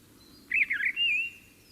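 A single mistle thrush phrase, a brief run of clear whistled notes followed by a longer sliding note, heard alone over faint low background hum.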